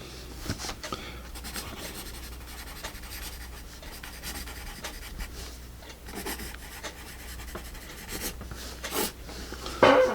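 Graphite scratching of a Sketcher 4B pencil sketching on paper, a steady close scritch of strokes running throughout with a few sharper accents, no talking.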